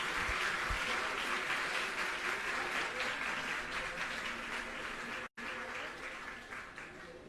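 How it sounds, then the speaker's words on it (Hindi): Audience applause at a school ceremony in Dariyapur village, Bawana, swells as a dense, loud wash of many hands clapping, briefly cutting out near the end and then tapering off. "जोरदार तालियों से स्वागत करें।"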